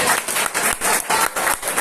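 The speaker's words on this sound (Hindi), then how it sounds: "अंचल दद्दा जी के लिए जोरदार ताली" Audience members at an arm wrestling championship briefing in Lucknow clap together in rhythmic bursts, a brisk, fairly close round of applause with short pauses between waves.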